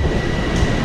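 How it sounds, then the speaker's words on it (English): A Long Island Railroad train at Jamaica station gives off a steady, loud rumble and rolling noise close by, with no voices over it. "This is the Long Island Railroad, and it brings me straight to Penn Station."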